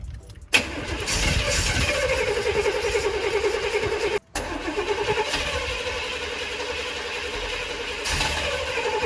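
A car engine with a new carburetor and fouled spark plugs cranks and catches, then runs loud and steady with a rough, uneven idle and a brief cutout partway through before revving again.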